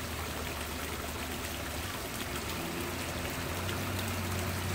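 An Oase water garden fountain pump sends a spray up three to four feet, giving a steady, dense splashing and trickling of falling water that runs loud and unbroken, close by, with no voices.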